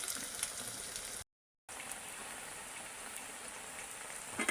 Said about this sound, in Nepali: एकछिन यसमा राम्रोसँग अदुवा र खुर्सानी फ्राई भयो भने अनि अचारको लागि रेडी हुन्छ।